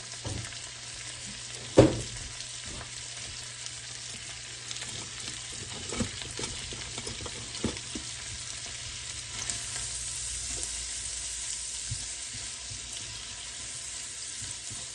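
Vegetables sauteing in a pan for a Southern breakfast of bacon, sausage, eggs and hash browns, giving a steady soft sizzle throughout, with an occasional sharp clink or scrape of a utensil stirring near the start.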